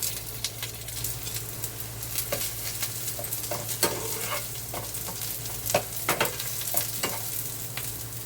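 Onions, green chilli, ginger and curry leaves frying in oil for a gram flour curry, a steady close sizzle with scattered stirring scrapes and clicks throughout, no voices.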